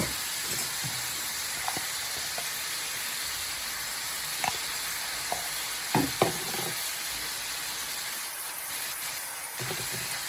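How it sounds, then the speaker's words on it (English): Seasoned vegetables and meat are stirred in a hot pan under a steady hiss of sizzling, with scattered soft scrapes and clicks from the utensil, all heard up close with no talking. "Okay, we're going to give that just a little stir."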